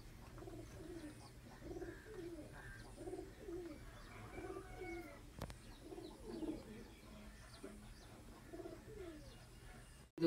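A flock of Rampuri pigeons coos steadily for about ten seconds, overlapping throaty coos and occasional chirps in a loft, with one sharp click midway and a burst at the very end.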